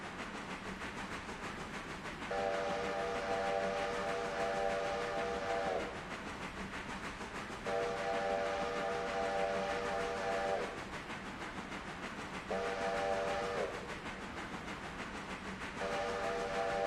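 Freight train rolling slowly through Whittier at about 25 mph on the Ela bridge project, a steady rumble of wheels on track under repeated whistle blasts, four long sustained tones sounding at intervals, fairly near and loud.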